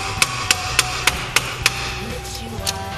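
Hammer striking a wrench or bolt while loosening brake caliper bolts during a brake and rotor change: six sharp metallic taps in a steady rhythm, then a fainter knock, close up against low background hum.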